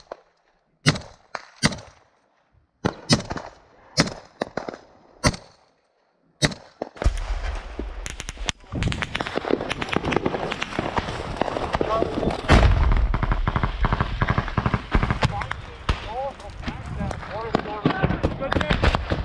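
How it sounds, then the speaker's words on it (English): Combat gunfire: several sharp, loud separate shots ring out, then a dense, continuous stretch of rapid shooting and heavy noise follows, with voices under it. "we're getting shot at pretty accurately, so I'm trying to return some fire"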